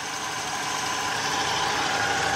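A Ford Ranger engine idles with a steady, unbroken mid-pitched hum and faint knocking, constant in level throughout and heard on its own.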